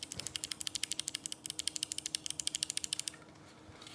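Rapid, crisp clicking from Kailh V2 clicky speed switches on a mechanical keyboard, a steady fast run of keystrokes heard close and alone for about three seconds before stopping.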